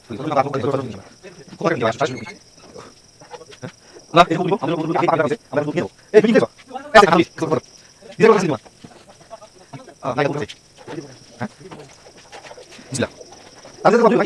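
Pigeons coo on a rooftop farm that also keeps chickens, cattle and goats, their soft calls mixed in among close conversation, with a faint steady high whine running throughout.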